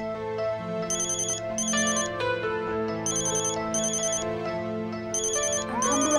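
A melodic phone ringtone signals an incoming call, its tonal phrases repeating in bursts for several seconds, loud and close, with no talking over it.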